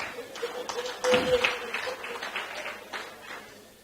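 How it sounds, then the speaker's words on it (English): At a quiz night in Mombasa, a small audience claps briefly, a short burst that swells and then thins out into scattered claps, with a voice talking over part of it. "A clap for that"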